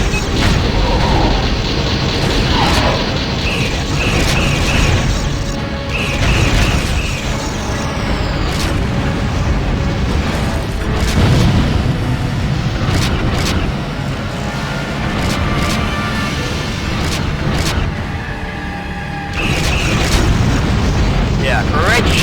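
Space fighters fire and explode in a Babylon-themed battle in the space combat game Freespace 2 Open, with continuous loud booms, weapon pulses and rumbling blasts, and radio voices speaking over the action.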